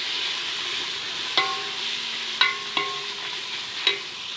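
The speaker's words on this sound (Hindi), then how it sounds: "अब इसमें ऐड करेंगे ग्रीन मटर। इनको अच्छा सा इसको रोस्ट करेंगे।" Green peas roasting in a pan for matar pulao, a soft continuous sizzle with a few sharp clinks of a spoon stirring against the pan, close and fairly quiet, no talk.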